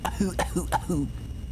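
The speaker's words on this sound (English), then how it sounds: "Harry says this and begins coughing." A man in a Silent Hill story game coughs in a quick series of four or five rough, close, voiced hacks.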